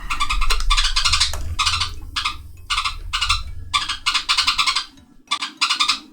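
Two pet parakeets squawk back and forth in a little squabble, a series of sharp, close, harsh chirping bursts with short gaps between them.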